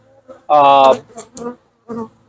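Honey bees buzz loudly up close at a beehive during a hive check, with one strong burst of buzzing followed by softer, intermittent buzzes.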